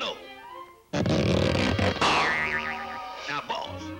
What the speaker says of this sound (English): That cat has a bad case of hiccups.